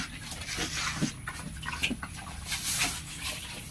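A hungry sow eats feed up close, with wet chomping, slurping and snuffling in an uneven, continuous rhythm, plus occasional grunts.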